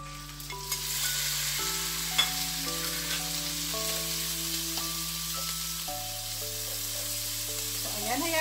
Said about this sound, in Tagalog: ipiprito natin yung ating bacon